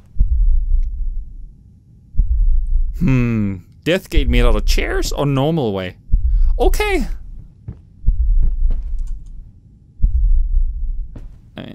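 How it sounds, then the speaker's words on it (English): A heart beating in the horror game Layers of Fear: deep, regular thumps roughly every two seconds, loud and close, continuing while someone talks over them. "A heart beating can be so terrifying."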